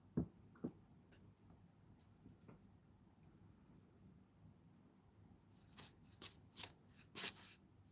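Little bits of paper are handled at a craft table, quiet rustles at first, then a cluster of sharp, crisp crinkling snaps toward the end, close and soft, with no talking.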